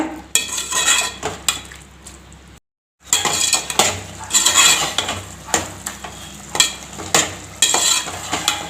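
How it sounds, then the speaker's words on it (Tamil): Masala for a kudal (goat intestine) gravy is sautéed in a pan, with loud, close sizzling and repeated metallic scrapes and clinks of a spoon stirring. A brief silent gap comes early on, and no one speaks. "இந்த மசாலாவுடைய வாசனை போகிற அளவுக்கு நல்லா வதங்கட்டங்க."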